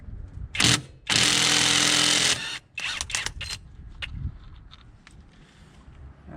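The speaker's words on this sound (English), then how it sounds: "get your impact, and you're gonna get onto this nut here." An impact wrench on an ATV clutch nut of a Big Bear 400 gives one short zip, then a loud sustained hammering burst of about a second and a half, followed by fainter clanks of tools and parts nearby.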